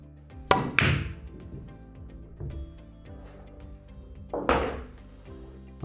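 A pool cue strikes the cue ball with a sharp click, followed by billiard balls knocking together and rolling across the table, with a second loud crack of collision a few seconds later, heard close up.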